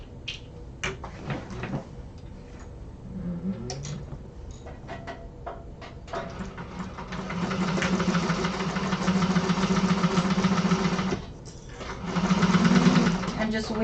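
Sewing machine stitching a bag seam in a sewing class, its steady mechanical whir running in longer bursts that grow louder and more sustained in the second half, with a short pause between runs and quieter handling sounds earlier.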